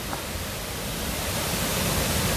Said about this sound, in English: this is the number four waterfall